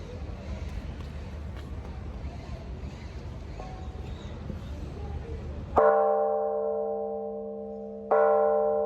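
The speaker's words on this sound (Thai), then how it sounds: "เราไปตีระฆังกันครับ" A large temple bell at Wat Rakhang Khositaram is struck twice, each ringing tone decaying slowly, after a stretch of busy background noise and murmuring voices.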